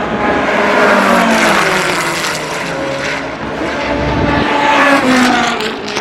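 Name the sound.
F5000 V8 race cars warming up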